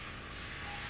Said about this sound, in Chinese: 那我现在听到飞机引擎的声音，就觉得很疗愈。